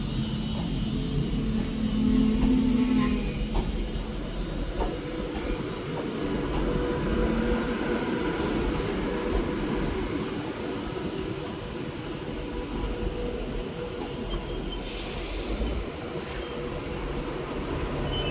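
A Class 390 Pendolino electric train pulls into Manchester Piccadilly on the West Coast Main Line, a steady rumbling roar with low mechanical drone that holds fairly level throughout, heard from the platform at close range.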